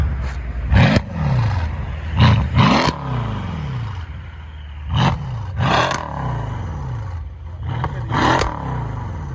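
A Mercedes CLS 63 AMG with an aftermarket exhaust revs hard in several loud bursts, each climbing then falling away, with turbo whine spooling between the blips, close by and without talking.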